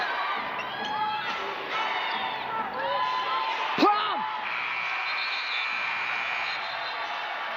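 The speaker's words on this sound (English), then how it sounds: "The crowd is fired up." A packed basketball arena crowd cheers and shouts during a WNBA game between the Las Vegas Aces and New York Liberty. There is steady roaring noise with whoops and a brief slam-like thud, and a commentator's voice sits under the din.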